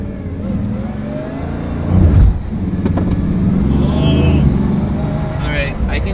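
A Bugatti Veyron's engine revs and strains during a launch control attempt, heard from inside the car with a surge of noise around the middle, as people talk over it.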